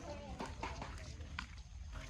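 Water splashes and sloshes as it is drawn from a farm water trough, a steady close wash of noise running under nearly continuous talking voices.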